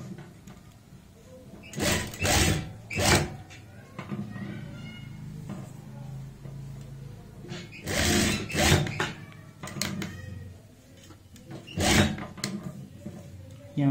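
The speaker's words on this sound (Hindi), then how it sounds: "पहले हम इस सिलाई के ऊपर सिलाई लगाएंगे" A sewing machine runs in several short bursts over a seam while stitching a frock, the motor whirring close with pauses between runs.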